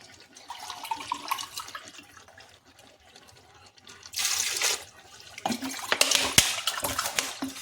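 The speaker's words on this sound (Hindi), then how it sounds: "1 गिलास चावल है, 4 गिलास पानी डाल रहे हैं।" Water poured from a glass into soaked rice in a pot for white aloo pulao, coming in short splashy bursts near the microphone separated by quieter gaps.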